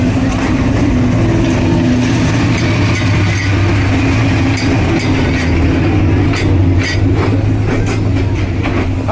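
Tista Express train standing at Gafargaon railway station in rain, a loud steady rumbling hum with wagon noise and faint clatter throughout, no talk.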